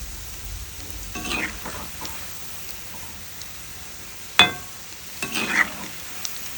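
Onion bondas frying in hot oil, a soft steady sizzle throughout, broken by a few scraping stirs and one sharp knock of a spoon against the pan as the fritters are turned.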